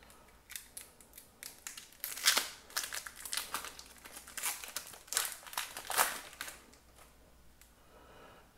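Upper Deck MVP 2020-21 hockey card packs being opened, foil wrappers crinkling and tearing in close, irregular bursts with soft card handling in between, fairly quiet and free of talk.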